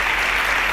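A short, dense burst of crowd applause on a televised quiz show, loud and steady for under a second with no talk over it.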